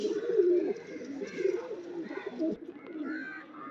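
Pigeons coo close by in a low, throaty, rolling series of repeated calls, with faint higher chirps running through it.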